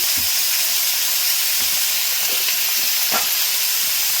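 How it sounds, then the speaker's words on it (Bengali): Chowmein with carrots and beans fries in a pan, giving a constant loud hissing sizzle with a few faint stirring knocks and no talk. "কিছুক্ষণ ভেজে নেব"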